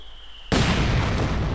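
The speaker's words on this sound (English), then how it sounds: "Coming under fire from Mortar" In Company of Heroes 2, a mortar shell lands with a sudden loud blast after a half-second of quiet, and its broad rumble holds steady to the end.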